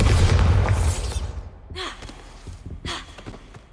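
Bombarda spell detonating in Hogwarts Legacy: a loud, close blast with a deep rumbling burst that fades over about a second, followed by quieter debris, gasps and scuffling effects.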